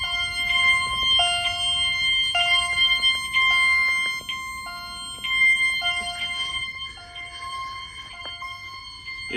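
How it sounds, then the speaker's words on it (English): A Siemens horn strobe fire alarm blares repeated harsh tonal horn bursts during a system test, overlapping out of sync with other alarm chimes in a loud, layered pattern. "that Siemens horn strobe is not in sync with the other alarms"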